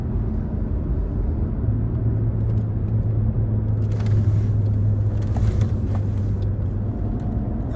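A VW Passat B7 with a 1.4 TSI engine drives along a road at reduced speed, with a continuous low engine hum and tyre rumble heard from inside the cabin and no one speaking.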